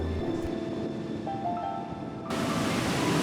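Ocean surf rolls onto a beach in Portugal at sunset, a steady wash of breaking waves that swells noticeably louder and fuller partway through, with no voices.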